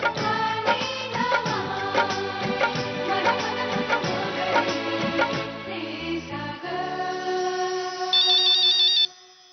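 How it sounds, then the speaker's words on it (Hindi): A melodic phone ringtone plays loudly for several seconds, a busy electronic tune that ends abruptly after a high trilling phrase. "आई का फोन आ गया"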